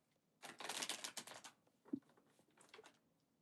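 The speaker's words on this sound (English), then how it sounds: "I'm going to shuffle this really well just to make sure if any repeating cards come out" A deck of tarot cards is shuffled, a dense burst of crisp riffling and flapping for about a second, followed by scattered softer card taps and one low thump, fairly close with no talking.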